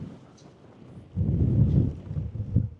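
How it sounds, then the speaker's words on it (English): Strong wind gusts at the reservoir at the top of Blackstone Edge during a road bike ride, a low roaring rumble buffeting the microphone that swells loudly after a quieter start. "but look how windy that is."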